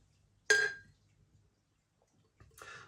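Hofmühl Dunkel, a German dark beer, poured into a glass: a bright clinking pour burst that fades out, then after a pause a second splashing pour, quiet and close.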